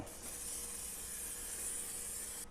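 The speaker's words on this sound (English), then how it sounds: "I'm gonna spray my racks in my smoker here so my wings won't stick." Canola oil is sprayed from a can onto hot smoker racks before chicken wings go on, a steady close hiss lasting a couple of seconds and then cutting off.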